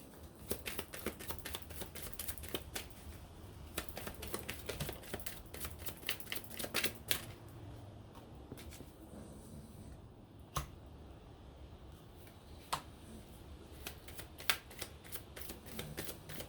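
Tarot cards shuffled by hand in repeated riffles and flicks, with crisp close bursts of papery snapping and rustling spread across a quiet room.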